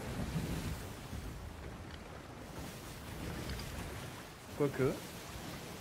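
Stormy wind and rain roar across the sea in the Sea of Thieves game, a broad, steady rushing wash with gusty swells, while a voice briefly speaks near the end.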